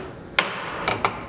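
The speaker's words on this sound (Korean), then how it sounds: "연결 부분을 끼우고 아귀가 맞도록 망치로 두드리고 다시 길이를 재는 일이 반복된다." A hammer taps the fitted joints of a traditional Korean hanok wooden door, giving three sharp, close knocks: one single strike, then two more a moment apart.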